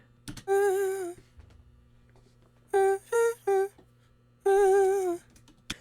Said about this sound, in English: this is a song of mine, I've got this vocal sample.